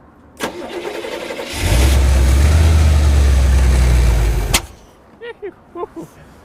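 A supercharged Jaguar engine in a rat rod cranks over, catches and runs loud and rough for about three seconds, then cuts out abruptly; people talk briefly afterward.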